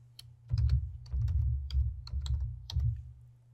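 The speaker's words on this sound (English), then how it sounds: "Now start typing your last name." Typing on a computer keyboard in Word 2016, a close run of quick key taps in small bursts over a low steady hum, with no voices.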